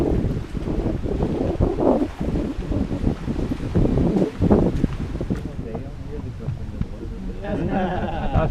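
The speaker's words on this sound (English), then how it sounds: "this is a small boat on heavy waves" Small boat pitching on heavy waves while crossing from the Panama mainland toward the Darien Gap, with strong wind buffeting the microphone, rushing water and hull knocks, under intermittent talk.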